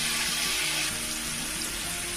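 Onion frying in hot oil in a pan, a dense, steady sizzle that is close and loud throughout with no talk.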